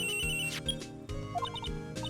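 A cell phone ringing in the Phoenix Wright: Ace Attorney video game, a short bright electronic ringtone of quick repeated tones over a background game music bed.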